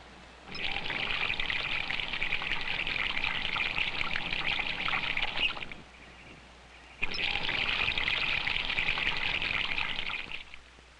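Water pours steadily onto a water wheel in two long bursts, a loud hissing splash that stops for about a second and then resumes.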